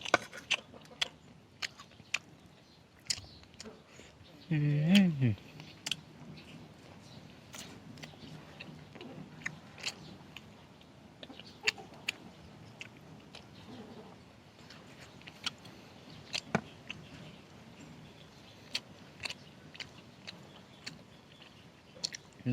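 Someone chews grilled field rat in soft, close, irregular clicks and crunches that are quiet against a hushed outdoor background.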